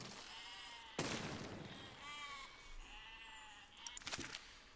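Sheep in the game Besiege bleat in wavering calls, with a sudden explosion boom early on and some clattering noises near the end.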